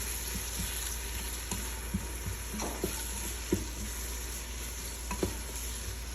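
Coriander leaves stirred into hot oil in a frying pan while cooking a spicy Filipino-style chicken dish, giving a steady sizzle with soft scraping stir strokes at moderate level throughout.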